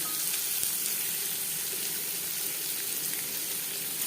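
Chopped onion sizzles steadily in hot refined oil in a pan, a constant, fairly quiet frying hiss with small crackles and no talking.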